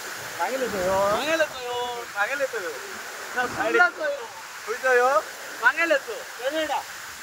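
Heavy rain-fed water pours down Mangeli waterfall as a steady, fairly faint rushing hiss beneath people talking close by throughout.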